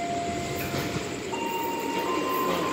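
A KRL commuter train on the Tanah Abang–Parung Panjang line rolls into Sudirman station, a steady loud rumble of wheels on rail with faint high squeals drifting through.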